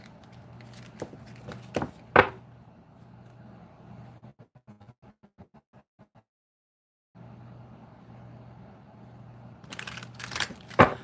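Tarot cards being shuffled, a brisk riffle and shuffling rustle near the mic, with cards dropping and clicking in short bursts, a stretch of quick separate taps, a brief near-silent pause, then more shuffling.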